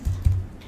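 A URL is typed on a computer keyboard, heard as two quick, fairly loud keystrokes close by against a quiet background.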